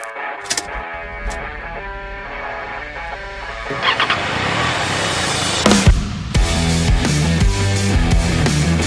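A 2024 Triumph Daytona 660 inline-triple sport motorcycle engine starts and idles, then blips and revs in short bursts, close and fairly loud, with no talking over it.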